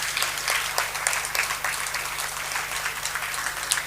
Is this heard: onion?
no